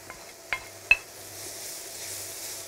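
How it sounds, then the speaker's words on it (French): Mushrooms go into a frying pan of onions sweating in meat juices, with a few sharp clinks of utensil on pan followed by a soft, steady sizzle close by. "J'ajoute mes champignons."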